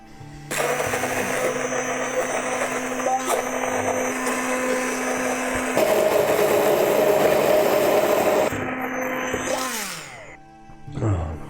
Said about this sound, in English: now we can mix the old school and some new school and use a blender